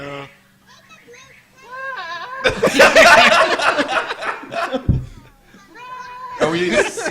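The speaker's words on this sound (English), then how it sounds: "Are we seriously watching goat?" A goat in a watched video bleats in wavering, nasal cries, then more goat bleats follow near the end. Several people talk and laugh loudly over and between the calls.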